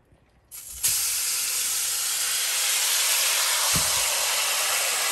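Whole chicken dropped into hot olive oil in a pan, setting off a sudden loud sizzle that continues as a steady close hiss.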